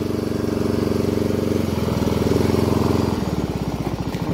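A ride-on lawn mower engine runs after starting, a close, steady low putter that shifts pitch partway through and settles into a rougher, pulsing rhythm.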